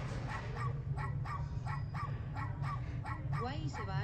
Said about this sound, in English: Why is he barking at Wesley?